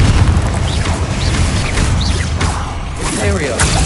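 A Confringo fire spell from Hogwarts Legacy blasts over and over in rapid succession, giving loud whooshes and booming impacts mixed with clanking game noise and a near-constant roar of battle.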